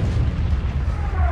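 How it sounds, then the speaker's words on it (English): An artillery strike explosion in Call of Duty Ghosts, a heavy, continuous booming rumble that fills the whole short stretch, loud and dense with deep low-end roar. "you can call in an artillery strike that decimates your enemy"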